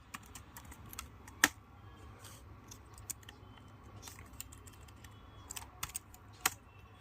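Keys clatter on a computer keyboard as Java code is typed, with irregular bursts of quick clicks and a few louder keystrokes, close and fairly quiet against a soft background hum.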